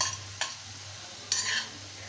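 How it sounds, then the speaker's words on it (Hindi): Cream and pasta sauce stirred in a pan, with two sharp scraping clinks of a spoon against the pan over a low background sizzle and no voices. "और इसको अच्छे से मिक्स कर देंगे।"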